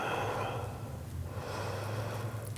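Slow, deep breaths during a hatha yoga flow are drawn in and pushed out through the nose, soft and close, over a low steady background hum.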